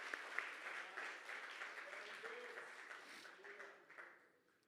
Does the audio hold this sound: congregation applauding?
yes